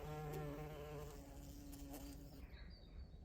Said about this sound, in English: Bumblebee enjoying some pollen